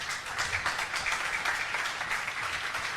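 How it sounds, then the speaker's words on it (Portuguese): A church congregation at a Christmas service claps continuously, a dense, steady wash of applause from many hands with no talking. "Se coloque de pé aplaudindo o nosso Deus,"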